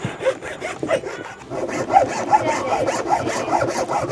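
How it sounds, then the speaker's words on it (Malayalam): Dry wooden sticks are sawn by hand to build a Christmas tree, with close, quick back-and-forth rasping saw strokes that grow steadier and louder partway through. "ഇനി ഇത് നമുക്ക് കട്ട് ചെയ്തെടുക്കാം"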